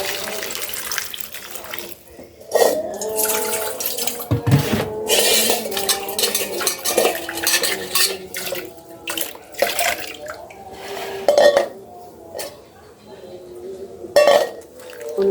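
Raw mangoes are washed by hand under running tap water, with splashing, intermittent gushes and knocks of fruit against a basin or pan; a person talks now and then over the washing.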